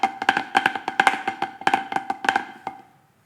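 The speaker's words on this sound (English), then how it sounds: "And maybe your cheese Chutichus sound like this?" Snare drum working through a cheese Chutichus pattern, dense buzzy grace-note flams and crisp accented hits in a rolling rhythm, close and solo, ending with a final stroke that rings out into silence.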